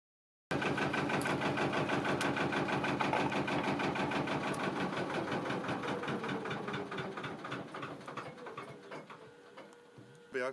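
A narrowboat engine idles with a steady rapid mechanical chug and rattle, close and continuous. It gradually winds down and quietens toward the end.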